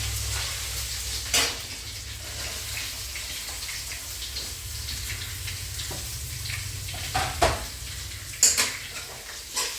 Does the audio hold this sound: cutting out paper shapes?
no